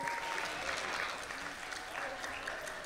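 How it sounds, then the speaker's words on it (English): Audience applause at a corporate gala awards ceremony for flag wavers at the back of the hall: a continuous, even roar of many hands clapping, moderately loud and filling the room throughout. "Round of applause for the flag wavers at the back there."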